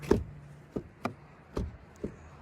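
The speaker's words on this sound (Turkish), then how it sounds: "Bir ön kapıya da bir bakalım." Front door of a 2025 Citroen C4 mild hybrid shutting several times, each a short solid thud with a quieter tap between, close by and alone with no talk.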